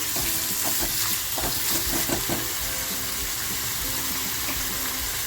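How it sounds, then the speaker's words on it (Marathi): Sliced onion sautés in a pan for methi prawns, giving a steady close sizzle with irregular scraping and stirring clatter that comes in bursts across the first half, then settles into a continuous fry. "कांदा टाकून झाल्यानंतर आहे ना छान त्याला परतवून घ्याय"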